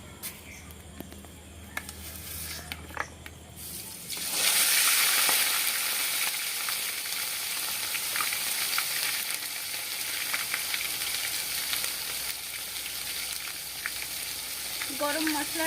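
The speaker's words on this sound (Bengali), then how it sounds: "এবার সবগুলো মশলা আমি ভালো করে কষিয়ে নেব।" Ground spices sizzling in hot oil while being stirred for a mutton curry with chui jhal, a quieter start of clinks and scrapes before a loud, steady frying hiss takes over, close by.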